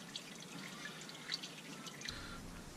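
Engine oil draining from the drain plug of a 2014 Dodge Grand Caravan during an oil change: a faint, steady trickle with a few soft drips, close by, with no talk.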